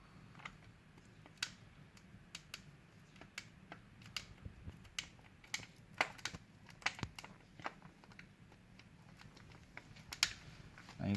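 Gelatin capsules being clipped into the plates of a manual capsule making machine, giving a steady scatter of small sharp clicks and ticks, some louder than others, heard close up with no talking.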